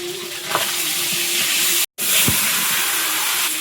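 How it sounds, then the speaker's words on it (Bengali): Steady hiss of catfish frying in hot oil with a few sharp pops and crackles, close by, with a brief dropout midway. "আর ওদিকে মাগুর মাছ ভাজা হচ্ছে, এটা ফুটফাট করে ফাটছে।"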